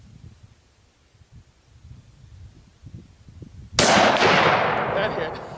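A short-barreled 12 gauge pump shotgun fires a single loud buckshot blast outdoors, the sharp report ringing out and decaying over a couple of seconds after a quiet stretch of faint background rustle.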